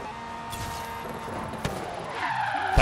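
A Lamborghini Aventador SV in Forza Horizon 3 slides through a handbrake skid, tires squealing in a sustained smear that swells louder toward the end, with game engine sound underneath and no voices.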